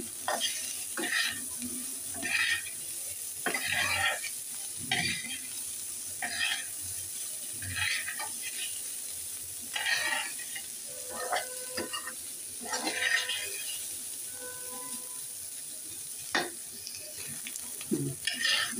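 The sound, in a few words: cauliflower frying and being stirred in a pan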